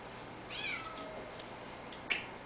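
A female cat meows twice, a drawn-out cry near the start and a short, sharper one near the end, both fairly faint against a quiet background.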